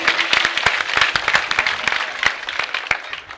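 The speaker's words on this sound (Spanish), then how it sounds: "Un gran aplauso para ellos" Close crowd applause at a village festival proclamation, brisk and continuous with distinct sharp individual claps standing out throughout.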